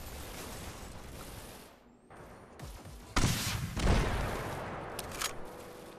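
Gunfire in the VR shooter Hyper Dash, played on an Oculus Quest 2: a few sharp bursts of clattering shots after a brief lull, moderately loud and mixed with busy game noise, no talk.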